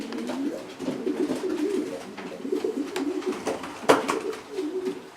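Pigeon held in the hand inside a loft, cooing in repeated low throaty rolls close by, with rustling and a brief sharp knock midway.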